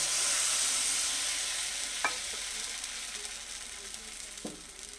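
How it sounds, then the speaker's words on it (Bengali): Semolina batter poured into a hot kadai for paratha, giving a loud, steady hiss of sizzling oil that slowly eases, with a couple of soft knocks from the pan. "আগে আমি এই ব্যাটারটা যেটা গুলে রেখেছি এটাকে দিয়ে দিচ্ছি"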